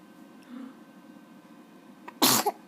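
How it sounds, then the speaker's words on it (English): A child sneezes once near the end, a sudden loud, sharp burst close up, after a quiet stretch with low room noise and a faint earlier murmur. "You sneezed on the iPad."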